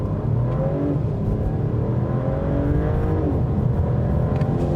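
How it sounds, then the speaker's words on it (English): A 2024 Mercedes-Benz E450 4Matic luxury sedan launching from a brake-torqued stop in a 0 to 60 run, engine rising in pitch through gear shifts, loud and continuous from inside the cabin. "Let's go ahead and try another 0 to 60 here."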